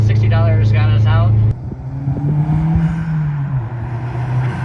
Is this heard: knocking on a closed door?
no